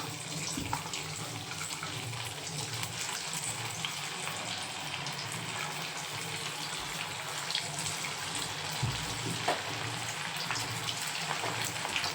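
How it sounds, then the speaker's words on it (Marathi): Manchurian balls frying in hot oil, a continuous dense bubbling hiss that stays even and fairly loud throughout, with no talk. "आता आपण हे बॉल्स तळून घेऊया तेल तापलं आहे"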